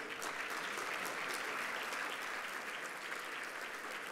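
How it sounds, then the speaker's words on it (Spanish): Steady, sustained applause from an audience welcoming panelists onto the stage at a public forum, an even wash of many hands clapping that holds for the whole stretch without pause. "Les damos un aplauso a todos ellos."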